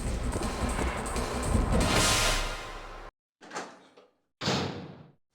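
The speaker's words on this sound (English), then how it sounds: "Yo, he just ripped that door open." A door is ripped open in Resident Evil 1, a long loud grinding rush followed by two short heavy bangs with silence between them, with no talking.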